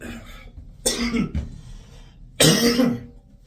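A person coughs in two harsh bursts with a throat-clearing rasp between them, close and fairly loud, in chilly, overcast early-morning surroundings.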